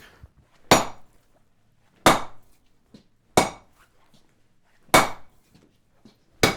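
A blacksmith strikes a hot round swage on a stump-mounted anvil with a hammer, five loud, sharp metallic blows spaced about a second or more apart, each ringing briefly before falling quiet.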